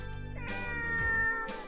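A cat meows in the Japanese visual novel game Muv-Luv, a clear drawn-out call over soft game music, with no speech.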